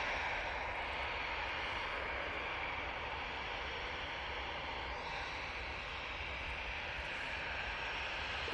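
An easyJet airliner departing Manchester Airport, its engines giving a steady, continuous roar that holds at a fairly even level throughout, distant and broadband with no voices.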